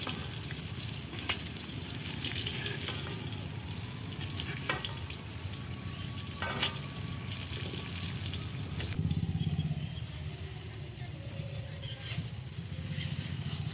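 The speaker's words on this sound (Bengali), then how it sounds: "এইভাবেই আমি বেগুন কটা প্রত্যেকটা বেগুন ভেজে নেব" Eggplant slices frying in a pan make a steady, close hiss of bubbling oil, dotted with occasional faint clicks and a brief louder surge partway through.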